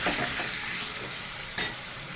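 Chicken with garlic and onion fries in a pan, a steady close hiss of sizzling oil with a brief stir or scrape of the pan partway through, and no talk.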